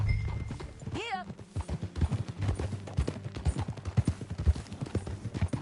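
Horse hooves clip-clop steadily at a walking pace in the Red Dead Redemption 2 western game, with a brief whinny near the start and voices talking over the hoofbeats.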